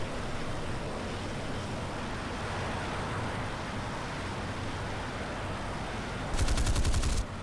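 War Thunder realistic battle with an F-80C or Meteor F.3: a constant rushing engine and wind roar, then a short, rapid, clattering burst of aircraft cannon fire near the end.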